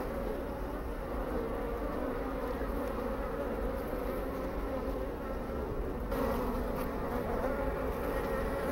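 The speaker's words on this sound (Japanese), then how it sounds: "一度は空いっぱい舞い上がったのですが、まだ戻ってきて巣箱の中へ入っていくところです。" Japanese honeybees swarm around a hive box and return into it, filling the air with a dense, continuous buzzing hum at close range.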